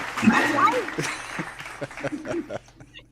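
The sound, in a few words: round of applause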